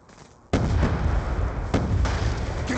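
A frag grenade explodes in Black Ops II with a sudden loud blast after a quiet moment, followed by rumbling and further sharp bursts of gunfire or detonations.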